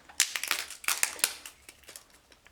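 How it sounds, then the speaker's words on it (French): Large scissors cut open packaging on a tarot card deck, a run of sharp crisp snips and crinkles coming in quick irregular bursts, close and fairly quiet, with no talking. "J'ai un peu du mal avec mes grands ciseaux."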